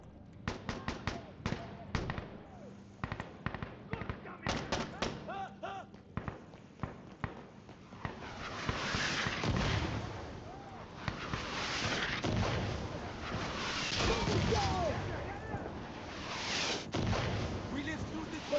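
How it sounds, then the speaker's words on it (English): Mortar fire in the game Insurgency: Sandstorm, opening with a rapid series of sharp impacts and bangs, then rolling, rumbling explosions for the rest of the time, loud, with voices talking over it. "Enemy mortars!"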